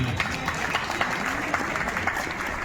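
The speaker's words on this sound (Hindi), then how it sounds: "आपसे एक अनुरोध करूंगा कि एक जोरदार तालियां आप बजाएं" An audience at a sports festival event claps steadily, a dense patter of applause lasting a few seconds, moderately loud and fairly close, with no talking.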